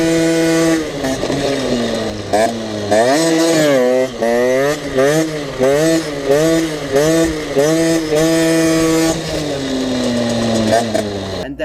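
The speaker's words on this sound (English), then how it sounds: "Here you can see me doing some wheelies with that bike." A KTM 50cc enduro dirt bike, a Derbi Senda fitted with KTM plastics, revs hard and repeatedly through wheelies, its two-stroke engine rising and falling in pitch over and over, loud and close throughout.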